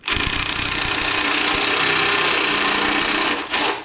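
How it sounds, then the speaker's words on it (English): An air ratchet tightening a bolt on a motorcycle bag guard, a loud, continuous buzzing rattle up close that runs almost without a break and stops briefly near the end. "The air ratchet didn't want to let go."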